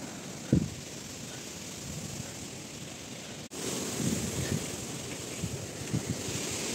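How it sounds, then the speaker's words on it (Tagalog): Strong wind on a mountain peak roars across the microphone in a continuous low rush, dropping out briefly before surging back stronger. "Biglang lakas ng hangin, guys."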